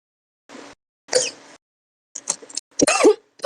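A person coughs in several rough, separate bursts with short silent gaps between them, close by and moderately loud, with the later coughs coming in quicker clusters.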